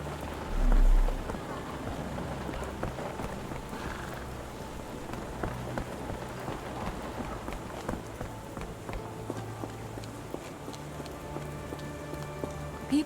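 Steady rain falls throughout a street scene in the Sherlock Holmes The Awakened video game, a dense even hiss with a faint low drone beneath and no talk.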